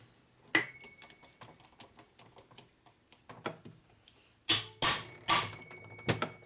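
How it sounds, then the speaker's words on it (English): Hammer striking a part of an S&S 113ci Harley Evolution motor during cylinder stud repair: a few sharp, close metallic hits with light ticking between, then a quick cluster of louder blows near the end. "Some hammer impact, so it takes a hammer."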